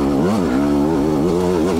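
A 2020 Beta 200RR dirt bike engine held in second gear with the clutch feathered, grunting at a steady, loud, close rev that rises and dips slightly throughout, alone with no talk.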